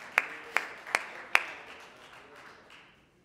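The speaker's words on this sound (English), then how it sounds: "Can we give God a hand clap of praise for the word of God?" A congregation claps in a church worship service: four sharp, evenly spaced claps ring out in the room, then fade into a soft, scattered patter.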